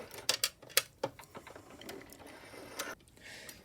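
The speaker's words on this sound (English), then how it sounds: "My machine's having a little trouble going through all these thicknesses here." A sewing machine struggles through several thick fabric layers of a large tote bag, with sharp mechanical clacks and ratcheting bursts early on, then a softer running whir.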